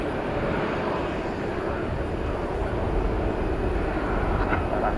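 American Airlines Airbus A321 jet bound for Calgary at DFW Airport at night, a continuous engine rumble and rushing roar that stays level throughout, with a voice talking over it.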